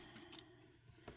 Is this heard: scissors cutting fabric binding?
yes